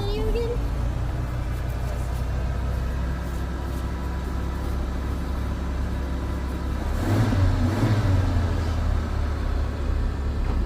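A hearse engine with a freshly replaced fuel pump idles steadily up close, then swells into a louder rev around the middle, its low rumble running continuously beneath a voice speaking over it.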